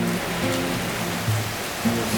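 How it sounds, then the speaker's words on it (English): Heavy rain from a thunderstorm sounds as a steady, dense wash of hiss with a faint low hum underneath; no thunderclap is heard. "It's really raining really heavily. Like thunderstorm heavy."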